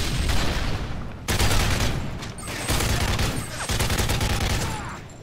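Rapid automatic gunfire from a weapon in a shooter game, loud and close in continuous bursts separated by brief pauses.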